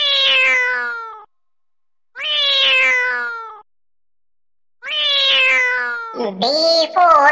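Three clear, evenly spaced cat meows ring out in a children's phonics song, each a drawn-out, slightly falling call about a second long, the last followed by a short burst of another voice-like sound.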